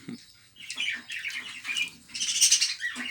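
Rainbow budgerigars calling in an aviary, a run of bright chirps and scratchy squawks in bursts, close and fairly loud, with no talk.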